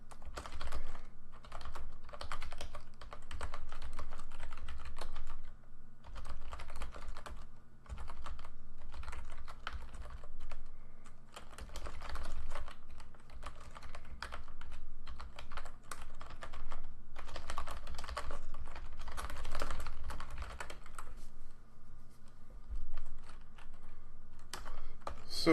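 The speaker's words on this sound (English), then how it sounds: "I always have a hard time typing that." Rapid typing on a computer keyboard, close and fairly loud, with dense bursts of key clicks and brief pauses that continue steadily throughout.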